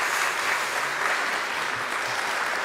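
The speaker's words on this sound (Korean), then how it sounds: "우리 인사하실 때 큰 박수 해 주시기를 부탁드립니다." Congregation at a Korean Sunday church service gives a round of applause to welcome new ministry staff, an even, moderately loud patter of many hands clapping for a few seconds.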